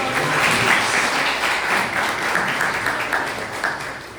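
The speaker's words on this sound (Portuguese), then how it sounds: "E as palmas do Senhor, bem forte." A large church congregation claps steadily and loudly for several seconds, a dense continuous wash of applause with no pauses.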